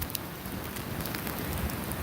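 Freezing rain pelting down during an ice storm, a faint dense hiss of pellets striking the ground and surfaces outdoors, steady and continuous with scattered sharper ticks, no voices.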